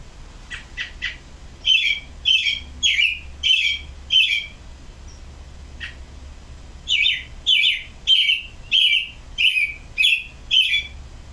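An American robin and a black-headed grosbeak sing in clear, close phrases of repeated warbled notes, separated by brief pauses, with no talking over them.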